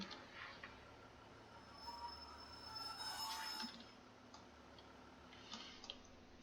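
A Class 156 diesel train slows to a halt in Train Sim 2019. Brake and wheel squeal rises to a peak midway, then fades to a quiet, ticking standstill.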